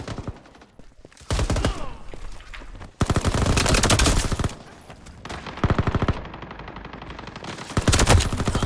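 Rapid automatic gunfire bursts from the shooter video game Veiled Experts, several loud sustained volleys separated by short pauses, with no talk over them.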